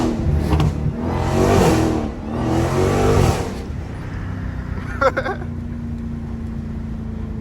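A Dodge Hellcat accelerates hard on a mountain road, its engine roaring up loud and close in two strong surges before dropping back to a steady low drone.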